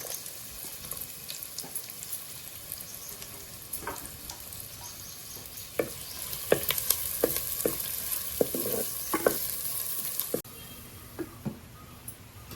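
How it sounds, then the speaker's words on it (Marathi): Onions sizzle in hot oil for a Marathi tempering, with a steady hiss, broken by sharp crackles and stirring clatters, then the frying noise drops away near the end. "मी तेल घेतलंय फोडणी मी आता कांदो टाकते याच्यात फोडणी"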